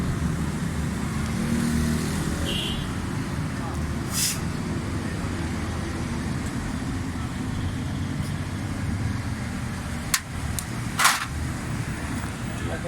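A rebuilt Suzuki Alto 1000cc engine idles steadily with a low, continuous rumble, with a couple of brief clicks near the end.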